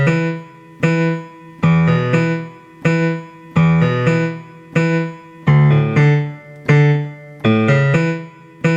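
A piano left hand plays the chords of a song in a steady repeating pattern of struck chords. Each chord rings briefly before the next, clear and close, with no talk.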